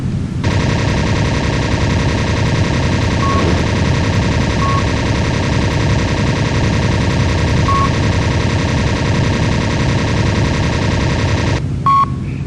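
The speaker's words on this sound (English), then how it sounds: "I'm going to start firing at it. This is going to be noisy. Watch as I fire." Aircraft guns firing at an airstrip in the video game Linux Air Combat: a loud, continuous mechanical rattle of gunfire with a few brief electronic beeps, ending abruptly.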